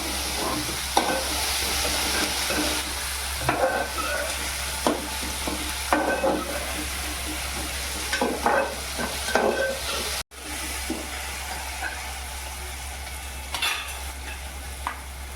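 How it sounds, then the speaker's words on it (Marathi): Cumin, mustard seeds, curry leaves, chili, tomato and onion frying in a pan for cabbage bhaji, a steady close sizzle broken by scraping stirs and clinks, with no speech. "जिरा मोहरी कढीपत्ता मिरची टॉमेटा आणि कांदा हे आता जरा आपल्याला शिजून द्यायचं आहे"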